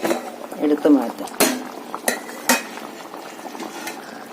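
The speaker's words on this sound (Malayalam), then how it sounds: "നമ്മുടെ കറി ഇവിടെ തിളച്ചിട്ടുണ്ട്. നമുക്ക് അതിൻ്റെ അടപ്പൊന്ന് എടുത്തു മാറ്റാം" Fish curry bubbling in a pot as the lid is lifted off, with a few sharp metallic clanks and scrapes over the simmering, and a voice speaking at the start.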